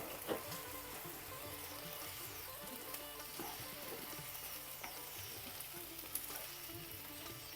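Small taro pieces frying with onions in a pan for a spiced taro masala: a continuous close sizzle with scattered pops and occasional stirring scrapes, steady and moderately quiet, with no talking.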